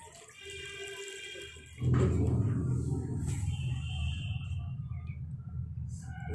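Fungicide-treated water is poured onto the freshly mixed soil of a repotted rose plant, a steady splashing, gurgling flow that starts abruptly and continues close to the mic, with faint tones in the background.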